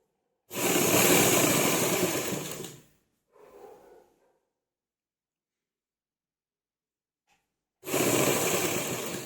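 A sewing machine stitching a shirt collar runs loud and close in two steady bursts of a few seconds each, with a brief softer handling sound between them and a silent stretch in between.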